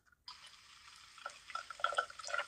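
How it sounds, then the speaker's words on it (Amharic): Water is poured during a shampoo wash of hair and face, a soft trickling splash that starts abruptly and grows busier and louder with bright dripping toward the end, close and fairly quiet. "ከዛ ውሃ ትጨምራለህ"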